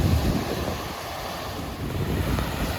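Waves lapping over seaweed along the Lake Erie shore, a steady, fairly loud wash of water mixed with gusty wind rumble, no voices.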